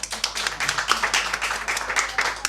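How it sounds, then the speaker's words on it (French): Clapping from a small audience at a musical reading event, a few sharp, distinct claps in an uneven rhythm, close and moderately loud, with no voices over them. "Vous pouvez l'applaudir aussi"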